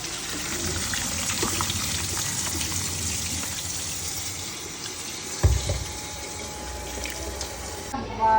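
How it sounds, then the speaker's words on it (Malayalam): Water pours and gushes from a tap, steady and close, to rinse cooked rice flakes, with a brief clatter near the middle and no talk. "ഒരു വെള്ളം ഒഴിച്ചെടുത്താൽ"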